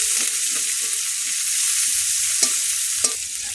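Garlic, onion and green chili fry in hot oil with a steady close sizzle, broken by a few sharp stirring clinks and scrapes toward the end.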